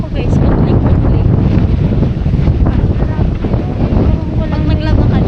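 Wind gusting strongly outdoors, a loud, continuous rushing roar buffeting the microphone throughout.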